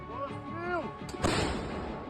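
A voice shouts "Gun!" in Ukrainian, then a single heavy artillery gun blast cracks out near the front line and trails off into a rumbling echo, heard from a distance.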